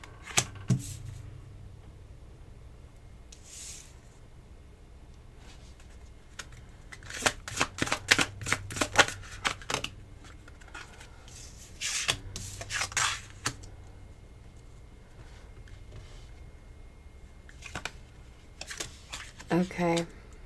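Tarot cards shuffled by hand at close range, in quick papery riffling bursts that come in several clusters with short pauses between them, with faint voice sounds in the background.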